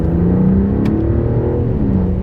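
A 2021 Mercedes S-Class in Sport Plus mode, shifted down to second, pulls hard with a steady, loud engine roar and rising whir that builds through the acceleration.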